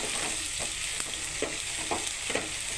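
Garlic paste fries in a pan under a dense, close sizzle, with regular scraping strokes from a stirring spoon every half second or so.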